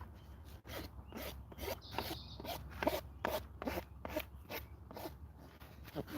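A rasp files a horse's hoof in a quick series of about a dozen close, scratchy strokes, each a short dry rasp with brief gaps between, steady in rhythm.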